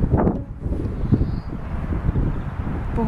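Strong wind blowing and buffeting hard, a loud, uneven roar with gusting swells and faint rustling, with no voices.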